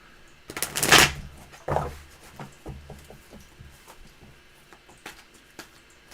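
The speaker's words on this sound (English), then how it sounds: "I'm going to shuffle up my other new deck here." Tarot card deck being shuffled by hand: a loud riffle at the start followed by a softer second burst, then scattered light taps and card flicks trailing off, close and with no talking.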